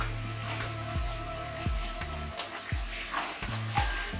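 Mixed vegetables sizzling in a pan over a medium-high flame, a steady fry hiss broken by repeated scraping strokes of a spoon as they are stirred, close and continuous.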